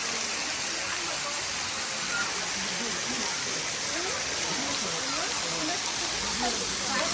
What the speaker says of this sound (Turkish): şu an şelalenin altındayız. Üstümüzden akıyor sular.